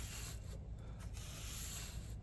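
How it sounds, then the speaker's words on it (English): Rough hand sanding of wood being finished with Minwax, a quiet close scratchy rubbing with a few short bursting strokes over a steady hiss. "It is just a rough sand"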